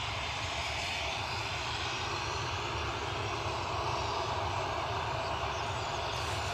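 A steady, distant aircraft engine drone on the runway at Newcastle airport ahead of a runway 07 departure, holding a constant broadband roar throughout with no talking.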